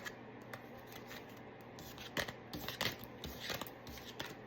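Tarot cards being gathered up and handled by hand, quiet papery sliding, shuffling and scraping sounds that come in irregular bursts, close by with no talking.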